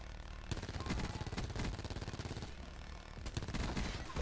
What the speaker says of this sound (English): Oh, that's a sentry gun.